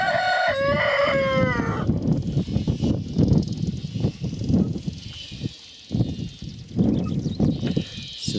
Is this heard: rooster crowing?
yes